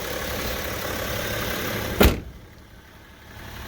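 A 2013 BMW X5 35d diesel engine running steadily, a close, even rumble broken by a single sharp thunk midway, after which the sound settles quieter.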